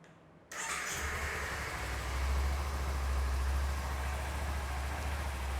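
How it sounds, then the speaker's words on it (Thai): A Kawasaki Z300 ABS motorcycle engine with stock exhaust cranks and catches after a brief quiet moment, then settles into a steady, low idle that grows slightly louder. "เครื่องยนต์นิ่งเงียบนะฮะนิ่งเงียบท่อเดิมนะฮะ"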